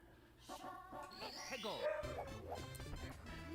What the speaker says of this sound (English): You might hear my lab in the background.